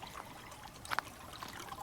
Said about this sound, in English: I have some water features here